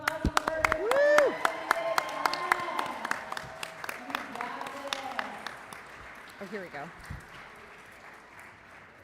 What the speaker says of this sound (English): Everyone give them a big round of applause.